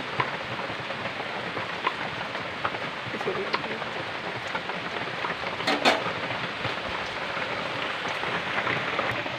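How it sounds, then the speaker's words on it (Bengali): Heavy rain falls steadily outside a home kitchen, a dense, even hiss of drops with slight swells, heard at a distance throughout with no clear talk. "বাইরে প্রচণ্ডই বৃষ্টি হচ্ছে, কখনো টিপটিপ করে কখনো ঝমঝম করে।"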